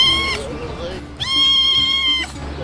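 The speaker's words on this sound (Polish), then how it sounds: "Pokażę wam kota, kot, który u nas pomieszkuje." A small cat staying inside a camper van meows twice in long, drawn-out calls close by, with a low hum and some voices in the background.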